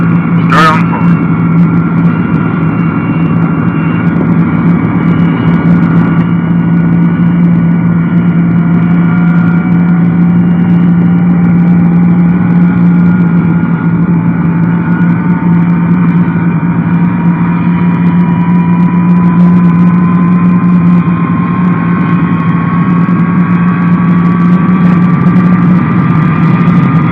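Number 4 jet engine of a B-47 bomber spooling up at start, with a steady loud drone, hum, and a whine that slowly rises in pitch throughout.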